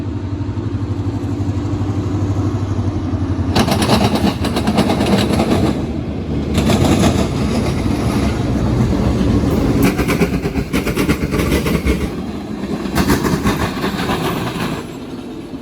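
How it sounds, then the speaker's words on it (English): A New York Central caboose rolls past at the end of a train crossing a railroad diamond, heavy rumbling wheel noise with repeated loud bursts of clanking as wheels strike the crossing, close and steady throughout. "Here comes the Caboose."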